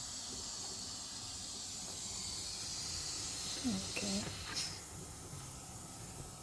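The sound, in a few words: steam releasing from pressure pot while cooking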